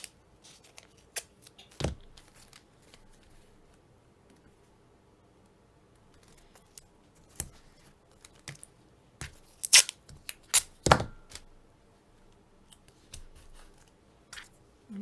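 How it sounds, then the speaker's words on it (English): Painter's tape torn from a roll and pressed onto paper over a stencil on a desk mat, giving scattered short rips and crinkles, with a louder tearing burst near the end, quiet handling noises between. "I'm going to tape this."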